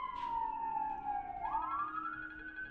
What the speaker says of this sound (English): can you guys hear those sirens?